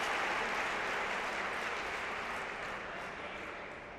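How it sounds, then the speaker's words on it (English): A crowd at a 2017 Bulgaria Open table tennis semifinal keeps up a steady wash of clapping, heard from a distance and slowly fading toward the end. "the crowd starting the slow clap"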